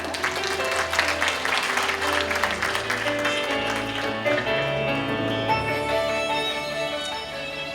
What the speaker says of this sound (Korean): 따뜻한 박수로 맞아주시길 바랍니다.